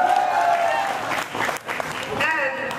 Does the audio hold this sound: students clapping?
yes